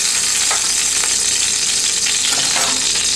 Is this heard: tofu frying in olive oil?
yes